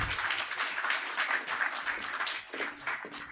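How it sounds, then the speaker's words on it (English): An audience at a convocation ceremony claps for the awardees, giving a moderate, steady patter of many hands that thins out toward the end. "May we have a huge round of applause for all the awardees."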